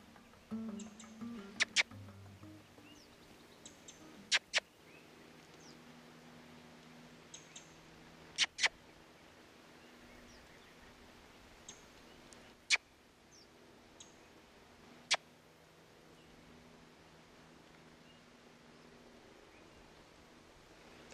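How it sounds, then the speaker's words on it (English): A red squirrel calls in a quiet forest, sharp isolated clicks and clacks like rocks knocked together, sparse and irregular over a faint hushed background. "It's not, it's a red squirrel."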